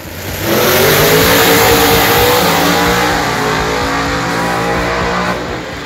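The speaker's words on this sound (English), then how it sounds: "Rob Goss, competing in the Outlaw class in his Dodge Challenger." A Dodge Challenger Outlaw-class drag race car roars as it launches and revs hard down the strip, a loud, close engine blast rising in pitch and then holding a sustained howl for several seconds before easing off.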